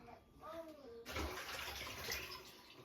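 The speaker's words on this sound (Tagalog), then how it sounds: "maghugas lang muna ako ng plato" Tap water runs into a sink for washing dishes at home, a steady broadband rush that starts abruptly partway through, preceded by a voice and continuing at a close, even level.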